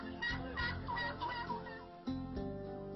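Turkey gobbling and calling loudly at a farm, several harsh bursts in close succession with overlapping bird calls, near and fairly loud with no talk.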